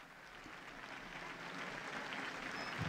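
Large outdoor crowd in St. Peter's Square, Vatican, applauding as Pope Francis appears at the window, a continuous distant wash of clapping and cheering that slowly grows.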